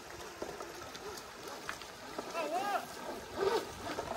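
A small 3D-printed RC boat whirs over shallow water with splashing, its buzzing pitch rising and falling as it maneuvers, while people talk nearby.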